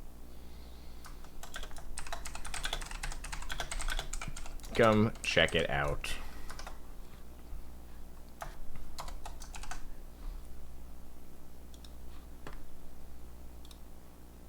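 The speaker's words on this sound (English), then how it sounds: "Enjoy the sounds of my clicky clacky keyboard." Clicky mechanical computer keyboard typed rapidly and steadily at close range before playing The Stanley Parable Deluxe Edition, with someone talking briefly over the clacking.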